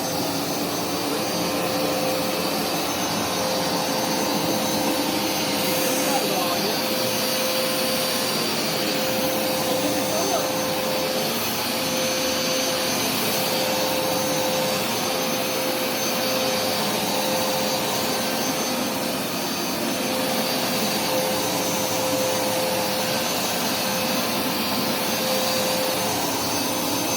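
A Hoover Smartwash carpet cleaner runs on a family room carpet, giving a loud, steady motor whine and rushing suction that holds without a break. Voices are heard faintly beneath the machine noise.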